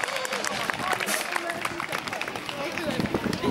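Outdoor audience at a food festival concert applauds with dense continuous clapping and some crowd noise, steady and fairly close throughout, while an announcer's voice carries over it.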